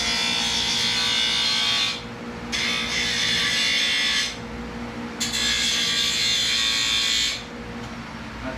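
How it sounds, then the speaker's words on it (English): A grinder grinds metal nubs down in three long, loud, harsh bursts separated by short pauses, with a steady low hum running underneath and no talking. "So I just grind it up, get it down to a little nub on each one"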